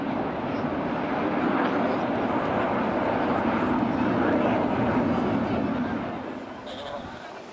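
RAF Red Arrows jets roar through a flying display at the Blackpool Air Show, a loud sustained rushing engine noise that swells and then slowly fades, with a commentator talking over it.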